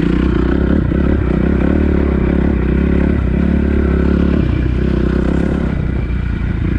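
A dirt bike that had sat unused for ten years idles loudly up close, its engine a steady, throbbing drone with a slight rattling clatter throughout.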